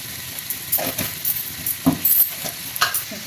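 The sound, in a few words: vegetables and peas being mixed in a pan for biryani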